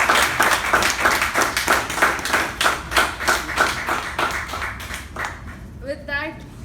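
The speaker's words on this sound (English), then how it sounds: "please everyone give a huge round of applause for him again" Audience applause at an installation ceremony, with a room full of hands clapping in steady bursts for several seconds before it thins out. A voice briefly rises near the end.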